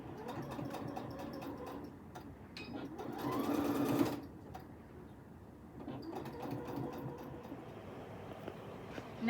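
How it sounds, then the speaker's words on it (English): A sewing machine stitches along pressed lines on fabric pockets, running in a steady, close mechanical hum that speeds into a louder burst near the middle before settling back to an even run. "taking it back to the machine and sewing on the lines that we previously ironed"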